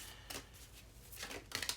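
Tarot cards being shuffled by hand, several quick riffling bursts spaced through a short moment, close and quiet with no talking.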